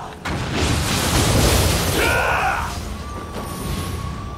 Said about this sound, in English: Oh, they throw bombs now.